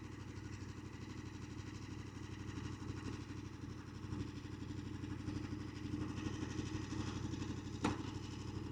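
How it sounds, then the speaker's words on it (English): A KTM 1390 Super Adventure S motorcycle engine idles steadily at low volume, an even low rumble with no speech over it. "I can now turn off the engine."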